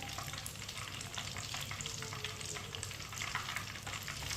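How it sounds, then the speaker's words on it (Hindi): Chicken pieces frying one by one in hot oil over a medium flame, a dense, even crackling sizzle that holds steady throughout, fairly quiet and close, with no voices. "अब एक एक पीस करके फ्राई कर लेंगे।"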